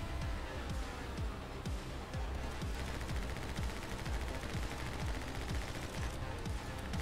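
Rapid, continuous gunfire from the action game My Friend Pedro pounds out in dense repeating bursts over a loud, busy game soundtrack, never letting up for the whole stretch.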